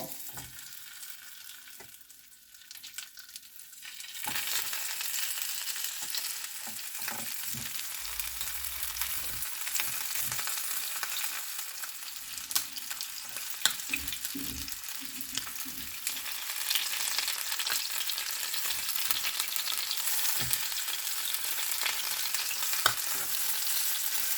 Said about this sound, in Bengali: এই গ্রিল প্যানটাতে আমি এখন চিকেনগুলো ফ্রাই করে নিব।